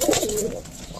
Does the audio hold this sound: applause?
no